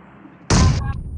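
A sudden loud blast from an explosion in PUBG Mobile erupts after a quiet moment, followed by a brief crackling tail.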